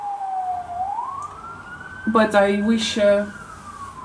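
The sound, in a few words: ambulance siren heard through an open window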